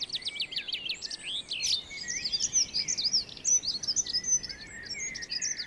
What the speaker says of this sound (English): Bird songs are intended mainly to impress potential partners.